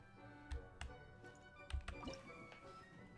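Water dripping in Genshin Impact: a handful of soft, wet drops fall at uneven intervals, quiet and close, over a faint low background.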